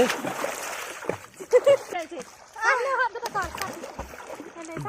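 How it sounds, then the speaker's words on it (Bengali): A child learning to swim in warm swimming-pool water, making irregular splashes and sloshes amid chatty voices that talk over much of the activity. "মেহেক সাঁতার কাটা শিখছে"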